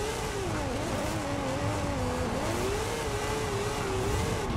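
A formula drift car in Forza Horizon 5 revs hard against the redline, a continuous loud buzzing engine note wavering up and down without pause, with no talk over it.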